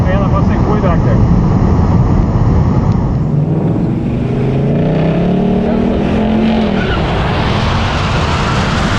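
Tesla Model S Plaid launching in a quarter-mile drag race against a Mustang, loud vehicle noise with a rising whine as it pulls away, heavy rushing wind and road roar throughout.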